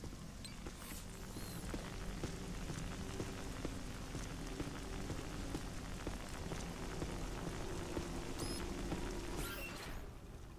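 Rain falls steadily in Ghostbusters: The Video Game, a soft continuous patter of drops with occasional faint clicks and splashes, no talking over it.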